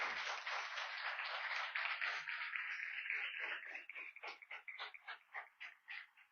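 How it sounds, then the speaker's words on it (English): An audience claps for secondary-school debaters at an inter-school debating semi-final, starting as a dense, steady round of applause that thins into scattered, separate claps toward the end. "I'd like you to give the debaters a round of applause."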